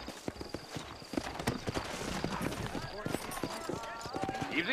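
Horses clip-clop in Red Dead Redemption, hooves beating a steady close rhythm with occasional snorts, under ongoing talk.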